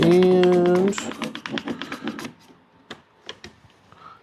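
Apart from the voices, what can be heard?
clamps being tightened on wood boards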